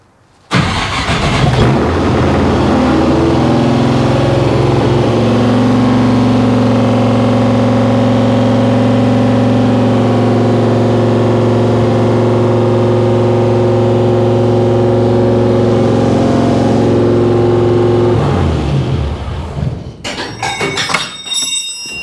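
A fuel-injected 1955 Chevy Nomad V8 cranks and fires, then holds a loud, steady high idle with a strong droning hum for about fifteen seconds before cutting off; brief clatter and rattles follow at the end.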